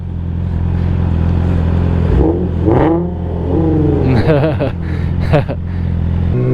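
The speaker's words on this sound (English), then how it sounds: "Give it a little rev." Yamaha R6 sport bike or Nissan 370Z revving in a rev battle, a steady engine drone with several sharp rising revs in the second half, loud and close under voices talking.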